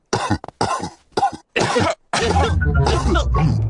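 Several grown-up cartoon characters in a Peppa Pig episode cough in a run of sharp, loud bursts, followed by a longer rough spell of coughing and throat clearing.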